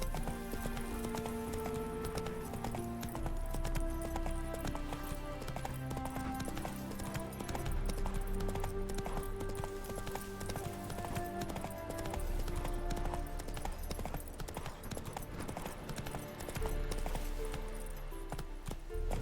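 In the Witcher 3 video game, a horse gallops continuously with rhythmic hoofbeats over a steady bed of game music and ambience.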